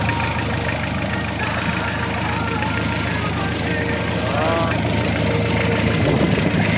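A freshly overhauled Hyundai D4BB diesel engine in a Hyundai H100 idling nearby with a constant, dense clatter and low drone; voices talk briefly over the steady running sound.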